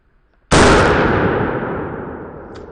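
A single sharp, loud gunshot from a 22 TCM firearm fired into a soft body armor vest panel, a sudden blast followed by a long decaying echo.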